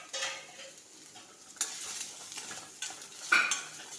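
Garlic cloves and curry leaves fry and get stirred in a hot pan, a soft steady sizzle broken by a few scraping stirs and light clinks of the spoon against the metal.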